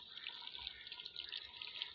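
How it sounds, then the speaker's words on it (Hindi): Water streams steadily into a clay handi pot set over a wood fire on a chulha, cooking potatoes and cauliflower with chicken; a faint, even pouring hiss with no break. "तो अब इसमें थोड़ा सा पानी ऐड करूँगी"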